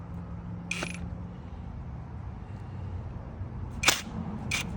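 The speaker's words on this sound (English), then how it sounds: "it just cracks them loose real quick. That's why I like this impact wrench" Carburetor screws on a 1994 Yamaha Virago XV535 being cracked loose with an impact tool: three sharp, brief metallic clacks, one early and two close together near the end, over a quiet background.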